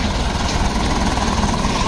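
A Hindustan tractor hauling a heavy load of more than 40 tons, its engine running in a loud, steady, close diesel rumble with a rough rhythmic chug.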